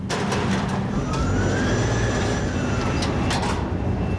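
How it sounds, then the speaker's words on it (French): Steady loud mechanical rumble with a rising whine as a worker elevator descends a shaft about 30 meters to a tunnel boring machine, with occasional clanks over continuous low roar. "on descend par l'ascenseur avec les ouvriers"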